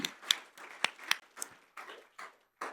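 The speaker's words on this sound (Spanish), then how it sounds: "Dame un aplauso por la vida de Pablo" A church congregation claps in sparse, irregular hand claps during a sermon, scattered sharp slaps at moderate distance with no talking over them.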